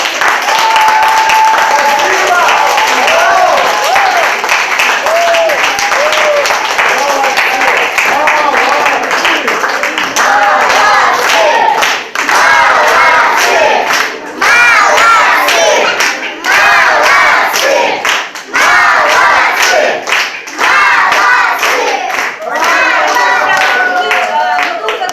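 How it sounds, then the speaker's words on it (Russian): Audience at a concert bursts into sustained applause for the performers, dense clapping mixed with loud cheering and shouted voices, the crowd noise running continuously for about twenty-five seconds. "Но мне еще раз хотелось бы пригласить всех участников этого концерта с аплодисментами."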